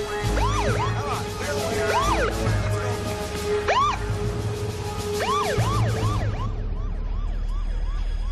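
An ambulance siren wailing in a fast, repeating yelp pattern, loud and close, continuing steadily throughout with a low engine-like rumble beneath.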